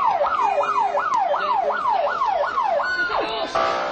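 An ambulance siren wails in rapid repeating up-and-down sweeps, about eight cycles, loud and fairly close. It breaks into a different siren pattern near the end over street noise.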